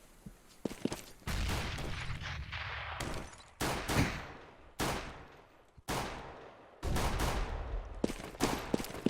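Gunfire in a Counter-Strike match: several sharp pistol and rifle shots and short bursts, spaced irregularly with quiet gaps, some loud and near, others softer.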